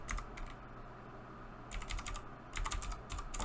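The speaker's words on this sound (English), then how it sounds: "Typing fast." Fast typing on a computer keyboard comes in quick, quiet bursts of clicking keystrokes, broken by short pauses.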